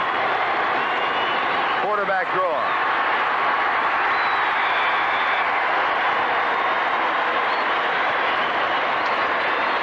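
A stadium crowd at a 1983 college football game, West Virginia against Syracuse, roars loudly and continuously throughout, with an announcer talking briefly over the noise.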